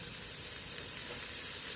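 Onions fry in hot oil in a pot, giving a steady, close, hissing sizzle that holds evenly throughout with no break and no voices.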